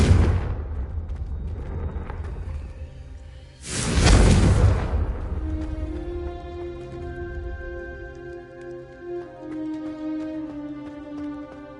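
A Confringo fire spell is cast in Hogwarts Legacy. A short rumble leads into a loud fiery blast and whoosh that surges briefly, then fades into sustained ringing magical tones and a lingering hum.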